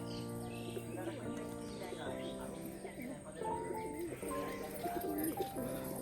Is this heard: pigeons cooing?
yes